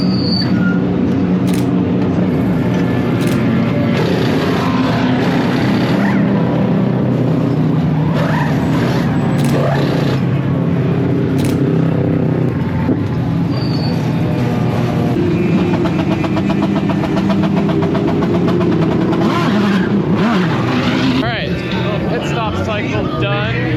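Race cars during a pit stop at the Rolex 24 endurance race, including a Lamborghini: loud, continuous engine roar and tire noise fill the scene, with high mechanical whines and sharp bursts throughout while people talk.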